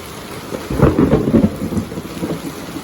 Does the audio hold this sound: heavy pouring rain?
yes